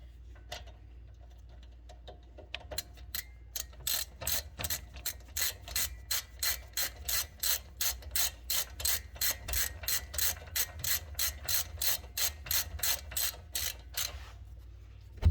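A ratchet wrench tightening bolts during a brake and rotor service on an Alfa Romeo, with a long run of quick, evenly spaced clicks from a few scattered ones into a steady rhythm, close and loud with no talk.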